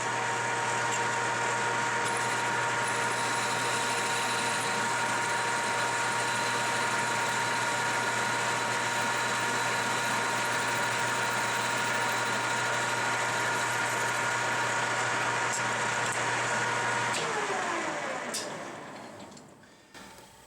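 A bench lathe shaving the heads off bolts, a long steady machine drone with a constant hum and faint ticking that runs for most of the clip and fades near the end.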